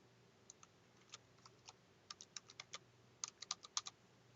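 A computer keyboard typing a file name: quiet, irregular clicks that start sparse and come in faster bursts toward the end, close by in a quiet room with no talking.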